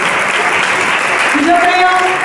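An audience claps in sustained applause at the close of a live stage act, a dense patter with a few tonal sounds rising over it near the end.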